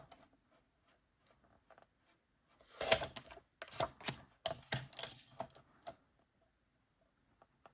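Paper pieces are sliced apart with a fresh craft blade, a quick run of sharp scraping cuts and ticks close by after a quiet start, with no talking.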